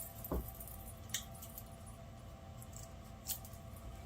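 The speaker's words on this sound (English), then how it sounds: "snip a little piece of this one off" Scissors snip through a small piece of jeans fabric during sewing, a few sharp, quiet cuts spaced out over a low steady room hum, no talking.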